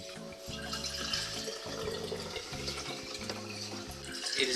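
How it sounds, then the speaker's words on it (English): Water kefir poured from a container into a bottle over a sink, a steady close liquid gurgle and splash lasting several seconds, quiet and continuous with no talk. "you just grab the bottle like this and you just pour it in like that"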